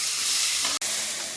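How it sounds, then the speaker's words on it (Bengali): Papaya, cabbage and capsicum fry in a hot pan for Manchow soup, giving a steady, close, broadband sizzle that runs the whole time, with one brief dropout near the end. "এর মোটামুটি একটু ভাজা ভাজা হয়ে গেছে, এরপর ক্যাপসিকামটা দিয়ে দিলাম"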